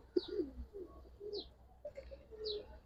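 Giribaz and coloured pigeons cooing in soft, rounded bursts, several low coos spread across a few seconds with faint higher chirps between them, fairly close and without talk.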